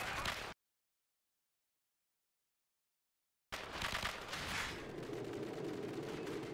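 Gunfire in Call of Duty 4: Modern Warfare breaks off into a stretch of dead silence, then returns as a dense, rattling volley of shots, loud and close.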